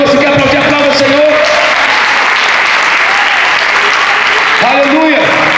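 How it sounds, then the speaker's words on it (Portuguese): A church congregation applauds loudly and steadily throughout, a dense wash of clapping with voices rising under it near the start and again near the end. "Você quer aplaudir? Aplauda o Senhor."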